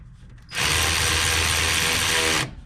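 Ratchet snugging bolts on a Ford Super Duty 4WD front hub during a new hub install, one continuous loud close-up burst of about two seconds with no talk.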